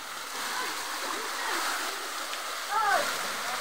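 Steady rushing water at Busay Falls in Camarines Sur, a broad continuous wash heard close, with faint voices and a brief splash toward the end.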